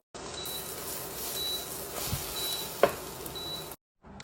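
A scallion pancake sizzles steadily in a hot pan just after being flipped, a continuous broadband frying hiss with a brief clatter near the end before it cuts off.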